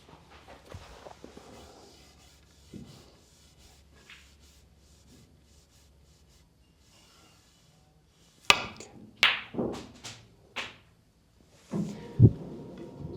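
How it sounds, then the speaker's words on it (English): A snooker cue strikes the white, which clacks into an object ball, followed by a few sharp knocks as the ball drops into the pocket, close and crisp after a quiet stretch with no speech. "So first I've got to pot this."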